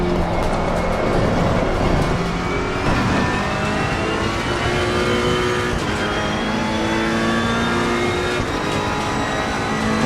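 GT race car engine in the racing simulator Assetto Corsa Competizione at Brands Hatch, loud and steady, revving hard through the gears with rising engine pitch, with no talk over it.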